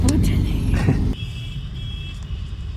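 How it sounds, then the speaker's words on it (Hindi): Cars and buses idle and creep in a traffic jam. A close, heavy engine rumble and talking come first, then settle into a steadier drone of traffic with a faint hum. "फंस गए चलते फिरते ट्रैफिक में।"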